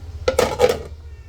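A child washing dishes: plates and cutlery clink and rattle in a quick cluster of two or three close, bright knocks, then quiet.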